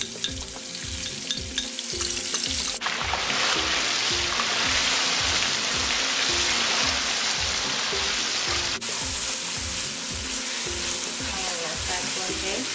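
Masala paste frying in hot oil for a black shrimp curry, a loud steady sizzle with rhythmic stirring scrapes, close up and continuous throughout.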